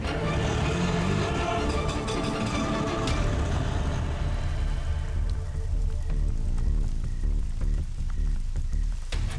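Steady rain pours down nearby, a dense, continuous hiss of drops striking the ground and surfaces, with a faint hint of passing traffic in the background.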